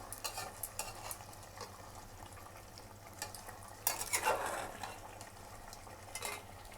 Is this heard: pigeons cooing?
no